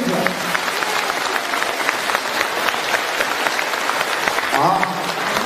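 A seminar audience in Malaysia applauding together, a dense, sustained clatter of many hands clapping evenly throughout, filling the hall.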